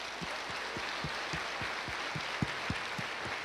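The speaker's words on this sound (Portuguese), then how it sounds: "Vamos dar uma salva de palmas para Ele?" Church congregation applause, a steady wash of many hands clapping at a moderate distance, with a faint rhythmic thump pulsing underneath throughout.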